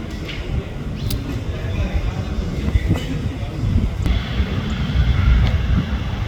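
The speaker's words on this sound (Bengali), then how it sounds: "এই যে ট্যাক্সি হয়ে এখন পার্কিংয়ে ঢুকতেছে বিমানটি" A Sri Lankan Airlines airliner taxis toward its parking stand after landing, its engines making a continuous low rumble and whine, fairly steady and growing slightly louder toward the end.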